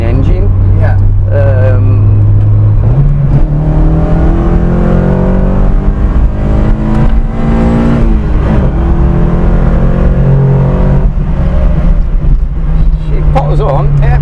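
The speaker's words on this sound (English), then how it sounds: "the good thing about the MX-5 engine, it's quite fairly high revving engine." A Vauxhall Chevette fitted with a Mazda MX-5 engine drives along, its loud, steady engine note rising and falling as it revs, with people talking over it throughout.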